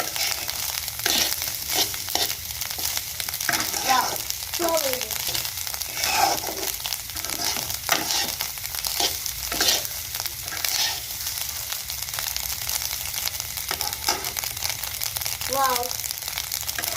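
Eggplant fries in a hot pan with a dense, steady sizzle and crackle that continues throughout, and intermittent clatters as it is stirred. Someone speaks briefly over it.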